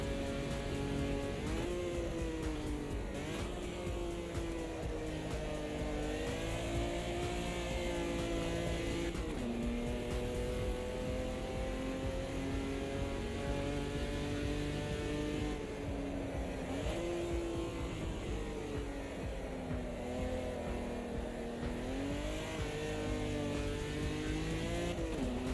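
Race car engine in the Automobilista 2 racing game drones continuously and loudly, its pitch rising and falling with repeated gear shifts and revving throughout.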